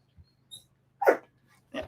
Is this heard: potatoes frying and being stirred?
no